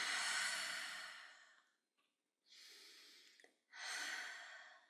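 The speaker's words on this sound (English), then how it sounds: "And just keep breathing as I speak to you." Deep, slow exhalations during a guided meditation, three long breathy rushes of air separated by short silent pauses, close and clear with no talking.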